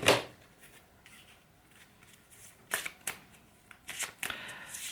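Tarot cards drawn from a deck, heard as a sharp snap at the start followed by several crisp flicks and slaps of card stock, close and fairly quiet with short pauses between.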